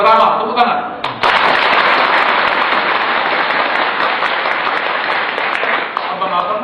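Audience applause bursts out at a religious talk, loud dense clapping that swells after a brief pause and holds steady for several seconds, with a voice audible faintly at the start and end.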